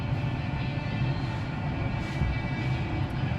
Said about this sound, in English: I can hear that it started up the ignition system and it's burning some stuff off